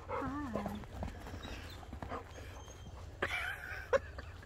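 A dog whimpering and yipping as it wants to play, with short high whines near the start and a couple of sharper yelps later over a faint background.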